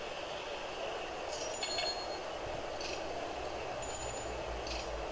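A GP7 diesel locomotive running in Railroad Tycoon 3: a steady rail rumble with a constant hum, faint intermittent wheel squeals and metallic clinks over the top, moderately distant and unbroken, with no speech.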